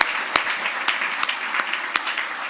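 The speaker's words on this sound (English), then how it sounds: "So hats off, please, round of applause for Mike's new suit." Audience at a Manchester charity event gives a round of applause, a dense, steady wash of many hands clapping with a few sharper claps standing out, fairly close and continuous without talk.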